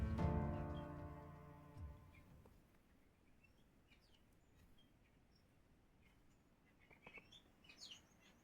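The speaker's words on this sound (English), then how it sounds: "Bird outside." A bird outside gives faint, scattered chirps that are distant and soft, coming after a louder tonal sound fades at the start, with no talking.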